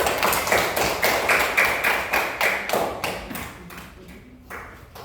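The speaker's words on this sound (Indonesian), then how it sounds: "Berikan aplaus dulu." A classroom audience gives a short burst of applause, rhythmic clapping near and fairly loud, tapering off over a few seconds.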